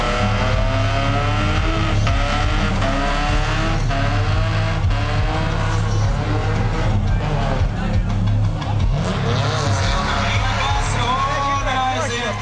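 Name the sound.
drift car on a qualifying run at a drift show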